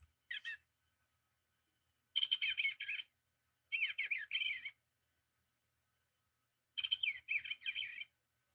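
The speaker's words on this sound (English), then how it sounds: "let's just hear the call of the Eastern bluebird" Eastern bluebird calls: four separate bursts of soft, warbling chirps, each lasting up to about a second, with quiet gaps between them and no other sound.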